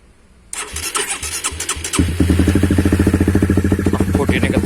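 Honda New CB150R motorcycle with a ported stock engine and a BSS round exhaust, cranking and starting up, then idling close and loud with a rapid, steady pulsing beat.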